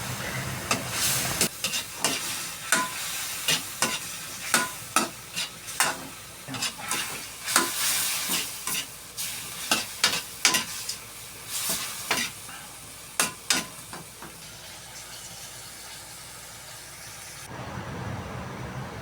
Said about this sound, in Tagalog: dahil sa kumukulo na, lagay ko na yung tangkay ng pichay